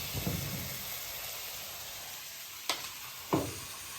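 Paneer frying in a pan, with a soft steady sizzle and a few sharp crackles and pops, close and alone.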